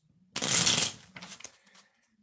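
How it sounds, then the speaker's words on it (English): A deck of playing cards is shuffled during a live magic show: a loud burst of riffling flutter, then softer scattered card snaps and rustles trailing off, with no talking. "give these a couple of shuffles"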